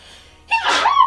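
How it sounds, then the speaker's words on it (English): A single close, loud sneeze: a brief quiet intake of breath, then a sharp explosive burst trailing into a voiced tail. "I have to sneeze."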